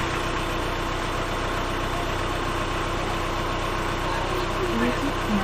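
A vehicle engine idles steadily close by, a constant mid and low rumble with no clear rise in revs, while a DC-DC charger setup is being tested.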